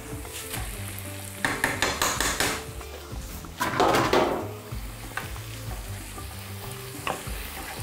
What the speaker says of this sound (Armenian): Եվ լցնում ենք տապակվող բանջարեղենի վրա